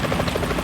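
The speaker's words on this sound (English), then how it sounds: "Is that a chopper I just heard?" A helicopter in Metal Gear Solid 2 throbs with a loud, fast rotor chop and low engine drone, filling the short moment continuously.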